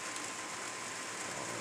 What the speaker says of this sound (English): Now here comes the rain.